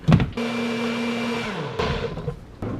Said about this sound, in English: Let's get it blending.